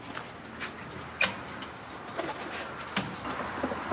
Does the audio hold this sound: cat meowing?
no